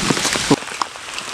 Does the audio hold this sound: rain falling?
yes